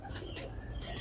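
Homing pigeons coo softly in a low, throaty murmur, faint and close, mixed with rustling background noise.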